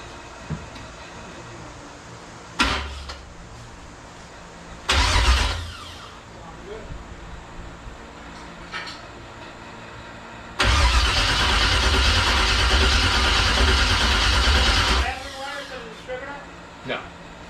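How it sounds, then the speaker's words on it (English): A 1971 Chevelle engine cranks over in bursts, with a short crank, a second brief one, then a long steady cranking stretch of several seconds that does not catch, amid quiet shop background and some talk. "we're gonna see if this thing turns over"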